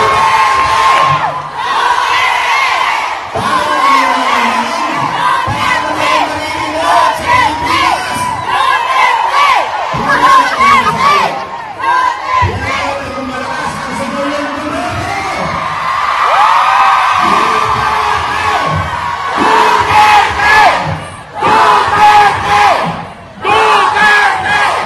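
A large political rally crowd shouting and chanting "Makabayan" in loud, rhythmic bursts, with cheers, whoops and yells rising and falling throughout, close and dense.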